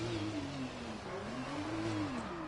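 An onboard F2 race car engine on a lap of the China circuit, a loud, steady high-pitched drone whose pitch rises and dips slightly as it runs down the long back straight, with no talking.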